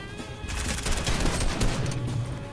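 Rapid bursts of gunfire from the Fortnite video game, a dense crackling volley that runs continuously and fairly loud for the full stretch, with no voices over it.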